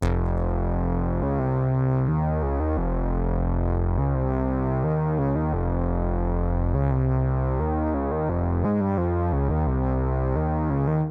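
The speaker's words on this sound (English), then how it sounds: "I went into Alchemy and I found the 70s classic synth bass" Classic 70s-style synth bass line from Alchemy playing a steady, distorted low riff alone within a hip-hop beat, loud and continuous with rhythmic note changes.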